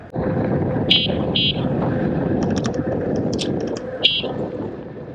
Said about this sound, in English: I love the honk on this thing